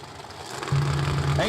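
A Camaro drag race car engine idles at a bracket race, a low steady rumble that grows louder partway through, with an announcer's voice over it.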